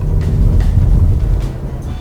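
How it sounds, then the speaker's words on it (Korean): Engine noise from a Kia Stinger 2.5 while driving, heard from inside the cabin: a steady low, rough droning rumble that stays loud throughout a short stretch, with faint road and wind noise. "뭐야 이거 엔진 소리가 왜 이렇게 커?"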